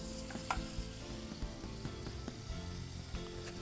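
Shrimp and prosciutto sizzle and fry steadily in a pan, a continuous close crackle with a few sharper pops and stirring clinks, no voices.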